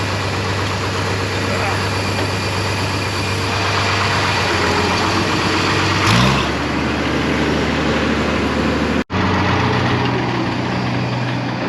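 A lime truck's engine idles on a farm, a steady loud diesel drone running the whole time with a brief knock near the middle and a sudden cut near the end.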